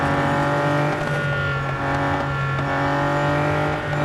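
A race car engine in the Real Racing 3 video game drones at a steady high pitch, holding speed with a constant whirring tone and faint tyre noise, loud and continuous with no talk.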